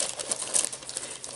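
Paper from a Glossybox beauty box crinkling close up, a continuous soft rustle with small bright crackles and one sharper crinkle midway, alone with no talk.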